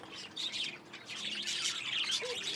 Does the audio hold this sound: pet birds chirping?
yes